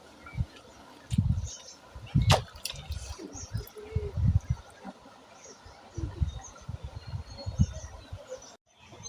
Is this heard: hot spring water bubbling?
yes